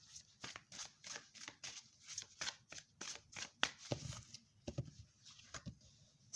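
Oracle cards being shuffled by hand, a rapid series of crisp papery riffles and slaps repeating steadily, close and fairly quiet, with no talking.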